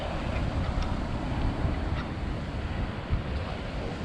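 Ocean waves surge in and out among rocky tide pools, a steady close wash of rushing water with wind buffeting the microphone.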